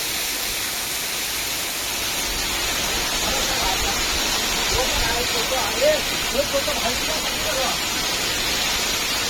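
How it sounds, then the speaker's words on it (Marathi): A main waterfall near a Malvan coastal staycation spot roars as a broad, constant rush of falling water, loud and close, with faint voices briefly surfacing under it. "भाऊ बघितलो मेन धबधबा"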